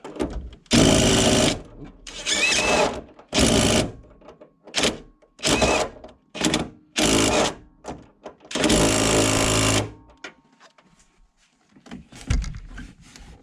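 Impact wrench tightening the rear shock nut on a Ford S197 Mustang, rattling loud bursts in repeated short pulses of varying length, one longer burst near the end, then quieter handling noises.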